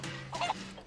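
A chicken in the video game Final Fantasy 7 Rebirth gives a short, close cluck over a steady low game-ambience hum.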